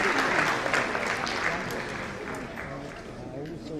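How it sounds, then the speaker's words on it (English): An audience at a medical councils' scientific conference opening ceremony breaks into sustained applause, a dense wash of many hands clapping at steady volume, easing slightly toward the end, with faint voices mixed underneath. "Oh, I think he deserves a nice round of applause."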